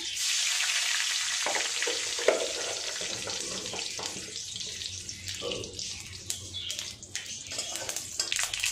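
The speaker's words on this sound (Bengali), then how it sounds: "কড়াইয়ে অল্প সর্ষে দিয়ে দিলাম" Mustard seeds fry in a wok for a fish curry, giving a steady close sizzle with scattered pops and crackles throughout, alone without voices.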